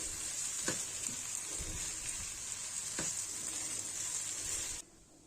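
Vegetables with a roasted red pepper sizzle steadily in a frying pan, a constant close hiss with a few soft stirring scrapes, cutting off near the end.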